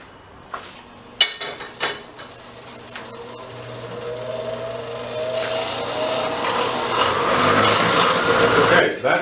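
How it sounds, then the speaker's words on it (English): A wire wheel runs against cut horseshoe nails in a workshop. A few sharp metal clicks and knocks come first, then a motor whine builds into a loud, steady abrasive grinding. "to cut those nails off and to take a wire wheel to them and clean them up ready for weld"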